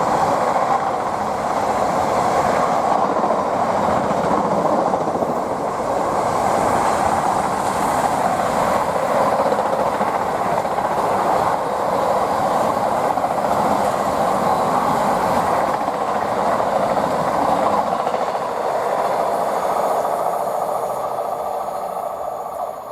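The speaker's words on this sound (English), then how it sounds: "here we've got Morris Cowley to Southampton Docks, DB Cargo 66 incoming." A DB Cargo Class 66 freight train bound for Southampton Docks passes close by on the main line, a loud, steady roar of engine and rolling wagons with clickety-clack and faint wheel squeal, fading slightly toward the end.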